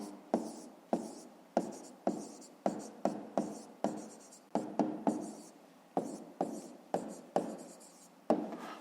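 Pen writing out the answer to a fifth-grade math exercise by hand, a rapid series of short scratchy strokes with brief pauses between them, close and quiet, with no voices.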